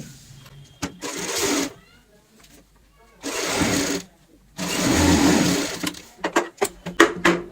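A sewing machine runs basting stitches along a cushion cover strip in short stop-start bursts, three main runs of close whirring separated by pauses, ending in a series of sharp clicks and taps.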